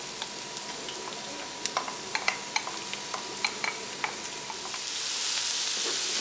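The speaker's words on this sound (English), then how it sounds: "It's starting to get hot, so I'm going to add all of our onions and let it fry out." Onions going into a hot pan of oil with dried red chilies, first a scatter of sharp crackles and pops, then a sizzle that swells louder near the end, close and without talk.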